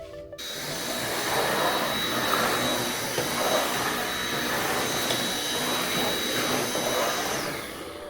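A vacuum cleaner drones steadily at close range, a continuous broadband whir that starts abruptly and holds without pause.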